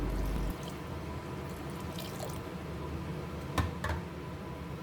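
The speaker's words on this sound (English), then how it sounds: "It looks like it's going dry, so I add some water here." Water is poured into a cooking pan of moringa leaves, a soft, steady trickle with a few splashy drips near the end.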